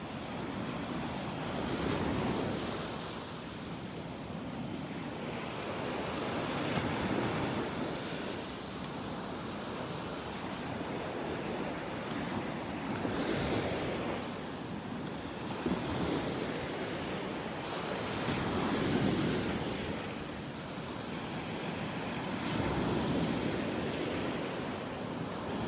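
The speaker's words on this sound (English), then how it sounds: "Beautiful though, watching him and listening to these waves." Gulf of Mexico waves break and wash onto a beach in North Naples, Florida, in slow repeating surges every few seconds, with steady wind noise across the microphone and no voices.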